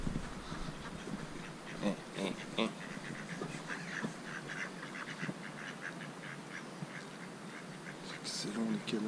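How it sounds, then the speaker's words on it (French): Ducks quack near an abbey, Saint-Nicolas-des-Prés, with repeated short calls scattered across the scene amid outdoor ambience while a person talks nearby. "Ah bah voilà les canards."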